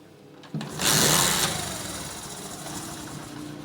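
Honda CD70 70cc motorcycle engine starting with a sudden burst, revving briefly loud, then settling into a steady nearby idle with a running-rich mixture.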